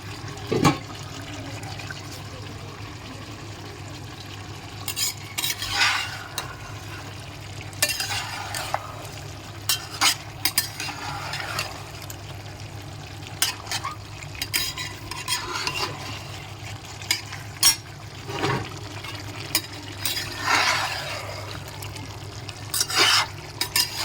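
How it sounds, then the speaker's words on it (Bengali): Chicken curry meat being stirred in a pan, with repeated close scraping and wet squelching strokes at an irregular rhythm over a steady low cooking hiss. "এবার মাংসটা আমি একটু নাড়িয়ে নেবো"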